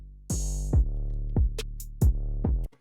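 An undistorted 808 bass in an Ableton Live beat, deep, booming sub notes that slide in pitch, punctuated by sharp kick and hi-hat hits, with a few clean bass tones ringing out under a sparse drum pattern.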